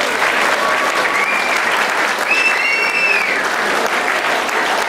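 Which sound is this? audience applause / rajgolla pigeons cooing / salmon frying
audience applause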